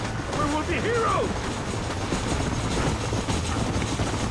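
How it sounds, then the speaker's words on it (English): Slow-moving train in the video game Red Dead Redemption, a steady dense rumble and clatter filling the scene, with a few whistling game sounds near the start. "That's a slow-moving train"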